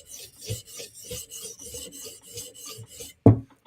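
Knife blade drawn across a sharpening stone on a final pass, a steady series of soft rasping strokes in a quiet room, ending with a sharper scrape or tap.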